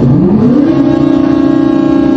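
A crane's diesel engine turns over and catches, its rising starter whir settling into a steady, loud mid-pitched idle that carries on alone without talk.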